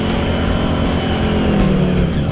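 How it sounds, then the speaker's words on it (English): Jaguar-based Draguar drag car doing a burnout, engine roaring loud and steady with tires spinning and smoking, a continuous close mechanical rumble throughout. "he's smoking the tires"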